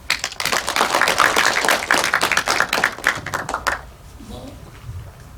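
Audience clapping at a meeting, a dense burst of many hands applauding loudly for about four seconds, then quickly tapering off to quiet room noise.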